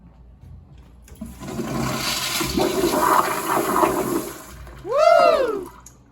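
A Moen commercial urinal automatic flush valve, just repaired after a continuous flushing fault, releases a rushing flush of water that runs for a few seconds and ends with a rising gurgle as the bowl refills.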